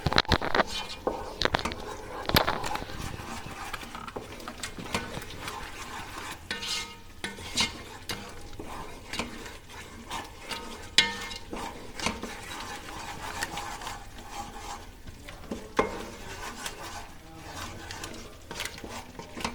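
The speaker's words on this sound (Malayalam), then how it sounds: "നന്നായിട്ട് നല്ല പേസ്റ്റ് പരുവാകുന്ന വരെ നമുക്കിതുപോലെ ഒന്ന് മിക്സ് ചെയ്ത് കൊടുക്കാം." Pasta sauce being stirred and mixed into a paste, with a steady, fairly quiet run of scraping and mixing noises and a few louder clinks and scrapes along the way, with no voices.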